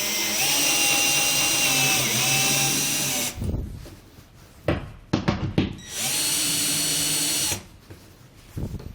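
A power drill driving E-track bolts with an 11mm socket: two loud, sustained bursts of whirring motor separated by a stretch of quieter clunks and handling noise, without speech.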